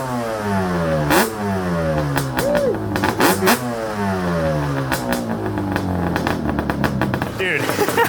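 A Yamaha Banshee ATV with an FMF exhaust revs hard and close, its two-stroke engine rising and falling in repeated throttle sweeps, a raspy buzzing wail with clattery bursts between pulls.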